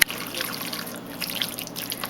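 A small splash of water trickles into a marinade for egg rolls in a home kitchen, a soft, close, continuous dribble lasting about two seconds with no talking.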